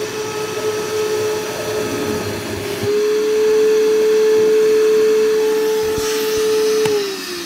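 A Harbor Freight Hercules vacuum running on corded power gives a steady, loud, close drone with a high whine that shifts pitch slightly partway through, then cuts off near the end.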